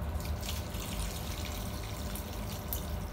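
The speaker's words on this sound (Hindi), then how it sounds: "और इसके अंदर आपने ऐड करना है पानी।" Water pours steadily into a pan for preparing Maggi noodles, a continuous close splashing and trickling hiss with no talking.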